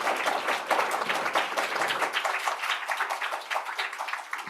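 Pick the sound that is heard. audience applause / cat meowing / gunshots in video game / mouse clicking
audience applause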